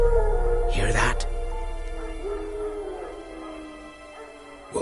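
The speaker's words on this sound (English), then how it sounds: "Wild dogs." Wild dogs howl in The Witcher video game, a drawn-out mournful howl with a couple of overlapping voices at moderate distance, fading slowly under quiet ambience.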